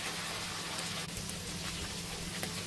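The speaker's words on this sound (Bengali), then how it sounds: "দিয়ে এখন আমি এই সবগুলোকে 3 থেকে 4 মিনিটের মতো ভেজে নেব হাই হিটে" Green capsicum and chicken frying on high heat, a steady crackling sizzle with a constant hiss and scattered small pops, close and continuous, with no talking.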